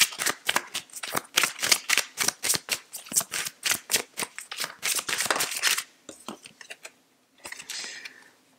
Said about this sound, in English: Sorry, these cards are a little loud, guys.